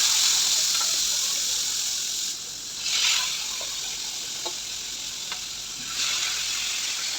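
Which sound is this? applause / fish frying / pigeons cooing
fish frying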